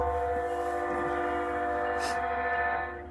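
A train passing nearby as steady, sustained rumble and horn-like tonal drones with metallic overtones, fading slightly at the end.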